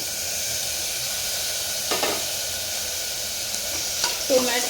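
Onion and spice paste sautéed in oil for a chana dal and potato dish, a steady hissing sizzle with a couple of brief stirring scrapes near the pan, no voices.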